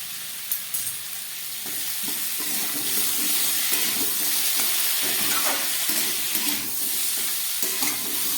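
Chili powder and ginger paste fry in a pan for a fish-head chhechra, giving a broad, steady hiss with occasional spoon taps and scrapes near the start and end, no voices.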